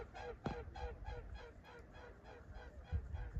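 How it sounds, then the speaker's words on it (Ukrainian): A flock of swans flying overhead gives repeated honking calls in an uneven series, moderately close, with a steady outdoor rumble underneath and no talking. "Вон ще летить ось лебедь."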